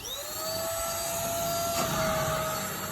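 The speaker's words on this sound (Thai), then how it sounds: "เป็นเครื่องดูดฝุ่น คล้ายๆ เครื่องดูดในรถยนต์นะครับ แต่ว่าเป็น ปลั๊กแบบเสียบไฟบ้านนะครับ" A corded handheld vacuum cleaner, a car-style model that plugs into a household outlet, runs with a steady, loud high-pitched whine and airy motor roar, close and continuous with no talk.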